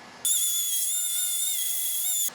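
An orbital DA sander works a metal motor mount bracket for a 12-valve Cummins, giving a high, whining spin that starts abruptly, holds steady for about two seconds and stops, close and loud without speech.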